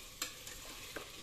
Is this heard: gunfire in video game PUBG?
no